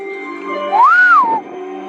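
A single close, loud whistle rises, holds a bright steady tone for about half a second, then slides back down, over a quiet hum.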